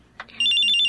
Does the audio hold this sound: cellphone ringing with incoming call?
yes